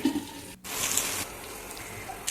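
Pigeon peas (arhar) fry in a pan with a close, bright sizzle that swells after a brief gap and then settles, with light stirring noise and no talk.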